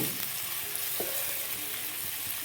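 Onions frying in a pan give a steady close sizzle with a few soft stirring scrapes, no talking.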